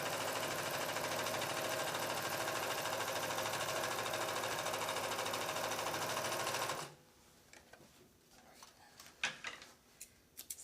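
A sewing machine runs a steady straight stitch along fabric edging, a fast, even mechanical whirr held for about seven seconds before stopping, followed by a few faint clicks and handling sounds.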